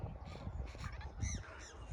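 Faint honking calls of birds in the distance, several short nasal honks overlapping against a low background rumble.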